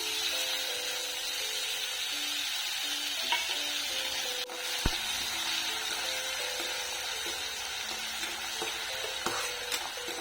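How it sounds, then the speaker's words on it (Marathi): Cumin seeds and potatoes fry in hot oil for sabudana khichdi, with a constant close sizzle and occasional scraping taps of a spoon stirring the pan. "तेल तापलेलं आहे आणि आता आपण त्यामध्ये जिरे टाकणार आहोत लगेच आपण त्यामध्ये बटाटे टाकून घेणार आहोत"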